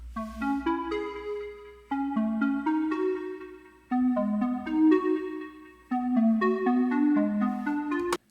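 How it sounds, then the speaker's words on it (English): Hollow synth pluck from an R&B-style Serum preset plays arpeggiated melodic phrases alone, with bright repeated plucked notes in four-bar-like groups, moderately loud and clean. "So just an awesome, pleasant sounding, hollow pluck that's just really nice to create these arpeggiated melodies with."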